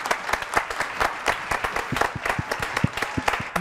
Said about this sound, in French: Applaudissements donc pour Delphine André.